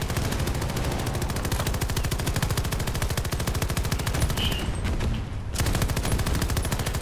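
Dense, continuous automatic gunfire in Battlefield 2042 fills the stretch with rapid, loud bursts that briefly drop out near the end before resuming, with no talk over it.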